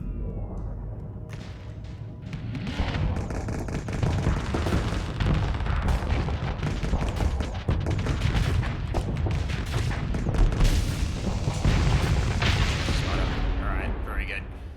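Missiles fired and exploding in the Starsector space combat game, a dense, continuous barrage of booms and thuds with crackling impacts running loud and steady throughout.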